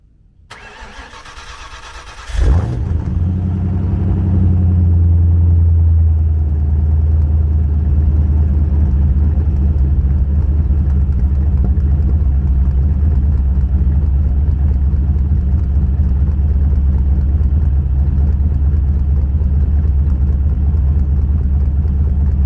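A 1995 Ford Mustang GT 5.0 V8 engine cranks and fires up from completely cold with a loud burst, then settles into a deep, steady rumbling idle that continues to the end.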